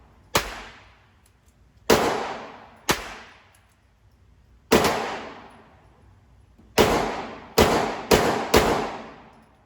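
Taurus TX22 pistol fitted with a forced-reset trigger firing CCI Quiet .22 ammunition, 40-grain rounds at 700 fps: eight sharp reports with ringing decay, sparse at first, then a quick cluster of four, moderately loud and close, with no talking.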